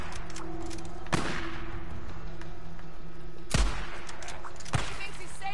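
Three widely spaced, loud gunshots in Days Gone crack out over a steady low hum of game ambience.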